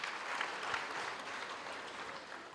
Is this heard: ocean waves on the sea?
no